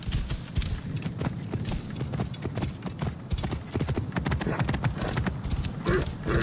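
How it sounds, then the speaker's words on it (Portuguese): Horse galloping in Assassin's Creed Origins: a steady, fast clip-clop of hooves runs continuously throughout, fairly close and loud, with an occasional whinny and faint background game ambience. "Um quilômetro de cavalo é rapidinho."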